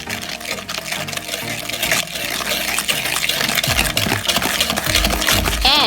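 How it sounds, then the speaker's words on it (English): Egg yolks and sugar are whisked in a bowl for crème brûlée, the whisk clicking and scraping in quick, steady close strokes with wet stirring sounds, loud and without talk. "Whisk the egg yolks and the sugar in a bowl"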